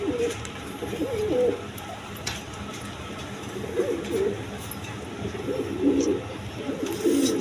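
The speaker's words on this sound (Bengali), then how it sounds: "এখানে আরেক পেয়ার কবুতর আছে, বন্টিনেট কবুতর" Bantinate pigeons, a pair of domestic birds in red colouring, coo in low throaty bursts at a steady close distance, several rounds of soft rolling calls spread across the stretch with brief pauses between them.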